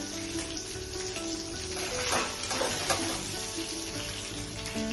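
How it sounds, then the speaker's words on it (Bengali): Fish pieces frying in hot oil in a home kitchen for a Bengali lemon rui fish curry give a loud, dense, continuous sizzle heard close up with no talking. "তো এভাবে ফ্রাই করে নিচ্ছি, এভাবে তুলে নিচ্ছি।"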